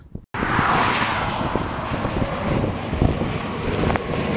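A pickup truck passes on a desert highway east of Lordsburg, New Mexico, as a broad rushing whoosh heard from the roadside, heavily mixed with wind buffeting the microphone.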